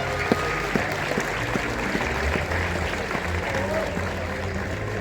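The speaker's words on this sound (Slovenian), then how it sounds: "Dajmo navijače velik aplavz" Spectators at a speedway meeting in Krško applaud a rider in a broad, steady wash of clapping, with a low hum and a few sharp knocks running beneath it.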